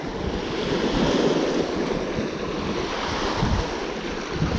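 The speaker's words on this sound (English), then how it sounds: "Can't hardly hear myself think when I'm out here fishing with all the waves" Lake waves wash and churn continuously along the bank while wind rushes and buffets the microphone, steady and loud throughout.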